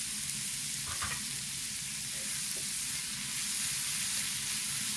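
Curry leaves frying in a pan of sautéed masala for grilled fish, a steady close sizzle and crackle with faint stirring scrapes and no voices.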